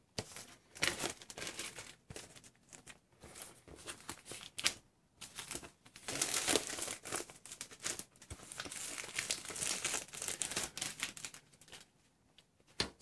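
Plastic film peeled off an Inateck 13.3-inch hard shell laptop case, close crinkling and crackling in irregular bursts over about thirteen seconds, with brief quiet pauses between pulls.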